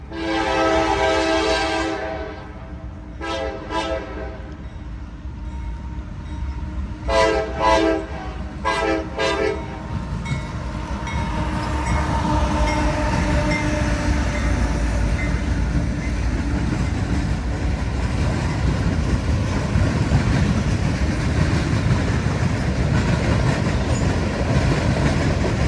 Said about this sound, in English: trains constantly traveled by